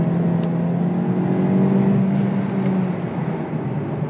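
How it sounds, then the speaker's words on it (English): A Hyundai Elantra N Line fitted with a JB4 tuner pulls hard at wide open throttle, steady droning engine note rising slightly from inside the cabin, loud and sustained with no talking. "Little wide open throttle punch here."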